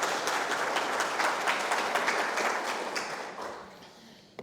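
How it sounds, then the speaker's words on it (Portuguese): An audience claps for a guest called up during a lecture, a full round of applause that gradually fades out, ending with a final lone tap. "Palmas para o nosso amigo."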